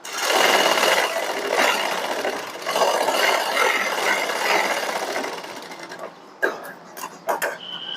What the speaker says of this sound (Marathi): आता इथे याला मी डबल शिलाई मारून घेते